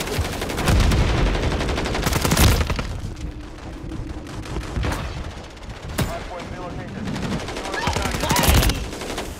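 Gunfire in Call of Duty, with bursts of game shots, a shotgun among them, running through the clip and heaviest at the start and end, loud over a background of talk.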